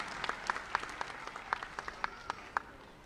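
An audience at a Gujarat police summer camp closing ceremony applauds to welcome Chief Minister Bhupendra Patel, with scattered crisp claps heard from a distance, fairly faint and sparse.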